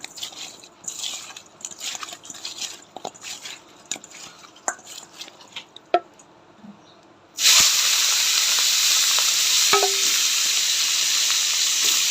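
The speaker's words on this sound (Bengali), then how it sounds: "মাছের মাথাগুলা এবার ভাইজা নিব" Hilsa fish heads dropped into hot oil in a pan, quiet clinks and scrapes first, then a sudden loud, steady sizzle and hiss that continues to the end.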